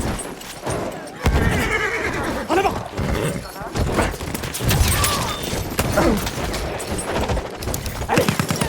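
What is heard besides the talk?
horse neighing and galloping in Battlefield 1 video game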